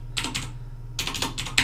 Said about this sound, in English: So we're gonna type in leafpad